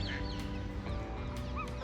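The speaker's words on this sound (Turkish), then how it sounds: "Bak papağan sürüsü." A flock of parrots calls over a steady wash of outdoor noise at a botanical park in Bursa, scattered squawks overlapping at a distance, with no voices.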